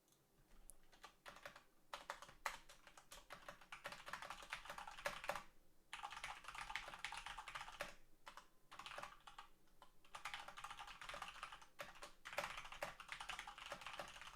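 Steady typing on a computer keyboard, continuous bursts of clicking keys with a few brief pauses, close and fairly quiet, no talking.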